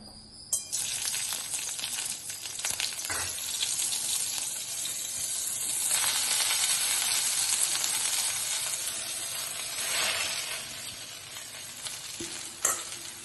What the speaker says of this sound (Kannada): ಇವಾಗ ಪುದೀನ ಹುರ್ಕೋತಾ ಇದ್ದೀನಿ.